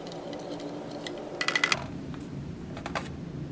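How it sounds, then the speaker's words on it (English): A spoon stirs instant coffee with creamer in a cup, giving a quick burst of close, bright clinks and taps against the cup's side, then a few lighter knocks as it settles. "Give it a stir."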